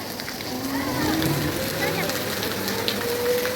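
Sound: heavy rain falling

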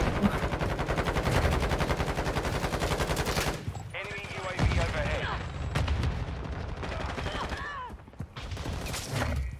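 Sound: gunfire from a gun in a video game

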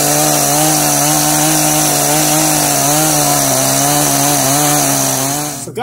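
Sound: chainsaw cutting a log

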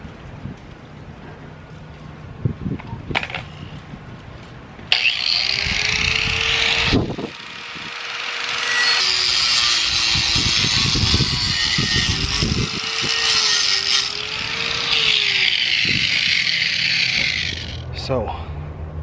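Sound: power tool cutting concrete

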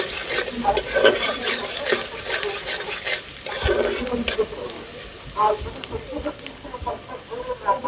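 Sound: chopped onion frying in hot oil

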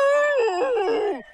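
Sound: dog howling in a cartoon

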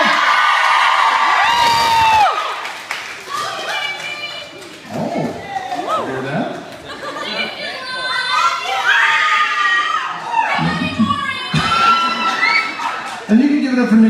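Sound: concert crowd cheering

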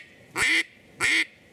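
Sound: duck call imitating duck quack

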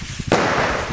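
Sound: New Year's Eve fireworks and firecrackers going off

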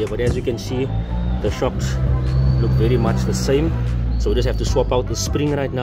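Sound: traffic noise from a busy main road

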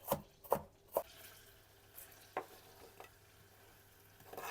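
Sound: onion stewing in oil, being stirred

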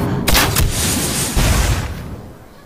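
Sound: shot and hit sound effect from Hearthstone video game

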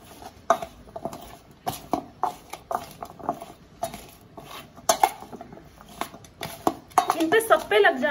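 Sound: mixing cornflour (arrowroot) into potato fries

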